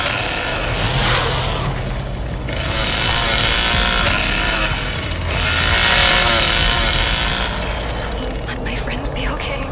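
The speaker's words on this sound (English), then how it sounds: "Okay, I do hear that chainsaw." A chainsaw drones steadily in The Texas Chainsaw Massacre video game, a dense, loud buzzing roar that swells twice, layered under busy game sounds while people talk.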